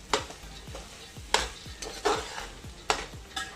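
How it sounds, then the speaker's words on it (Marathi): Sprouted moth beans (matki) sautéed in oil in a pot, with a quiet sizzle beneath sharp, close stirring scrapes and clanks of a spoon against the metal, recurring irregularly. "ही मटकी मोड आलेली आता याच्यामध्ये टाकून मी तेलावरती अशी छान आधी परतून घेते."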